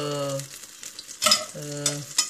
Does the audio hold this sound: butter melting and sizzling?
yes